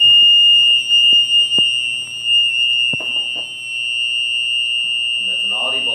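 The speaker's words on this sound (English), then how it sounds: "And there's an audible alarm as well as a light that indicates someone is in need" A panic alarm on an automatic door system sounds a loud, steady high-pitched electronic tone that runs continuously throughout, with a few button clicks and a person speaking quietly underneath.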